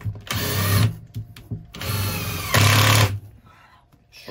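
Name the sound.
driving 3.5 x 60 screws into the van floor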